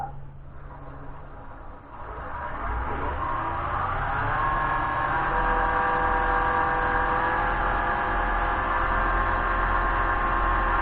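A wood lathe spins up to about 2500 RPM with a dovetailed segmented padauk and maple pen blank, a steady humming whir that rises in pitch over the first two seconds, then holds loud and even.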